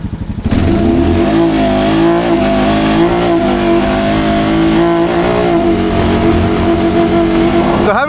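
A Jeep Rubicon with a DCT gearbox performs an auto launch, its engine revving loud and close in a sustained rising-and-falling drone, with a voice talking over it.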